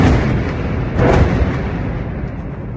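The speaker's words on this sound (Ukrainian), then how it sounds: "так звучить авіаудар по центру Бахмута." An airstrike explosion hits central Bakhmut, heard from a distance as one broad, rumbling boom swelling around the one-second mark. A continuous roar of dull blast noise fills the rest of the clip, with no talking.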